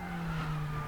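Formula race car in the RaceRoom sim braking hard into the chicane at Zandvoort, a steady engine drone with faint tyre scrub, continuous and moderately loud, with no voices.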